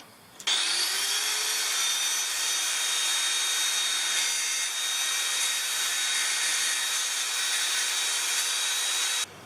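Power tool trimming a motorcycle part for a Brixton BX125 down to an outlined shape, a steady loud high-pitched whine that starts abruptly and runs continuously for about nine seconds before cutting off, with no talk.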